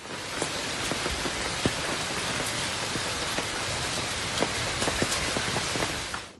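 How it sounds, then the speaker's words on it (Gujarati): A sudden evening downpour of heavy rain, a dense, unbroken roar of close drumming drops with scattered sharper splats, nothing else heard. "ધોધમાર વરસાદ શરૂ થયો"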